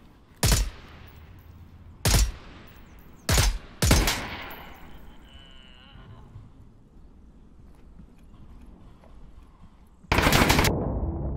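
Gunfire in the VR game Half-Life Alyx: four sharp, loud shots spaced about a second or two apart, a quieter stretch with faint game ambience, then a dense closing burst of rapid fire.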